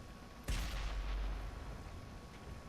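A single tank cannon shot fired on the move in World of Tanks, from an LTTB light tank, a sharp near boom that rolls into a fading rumble over steady engine noise.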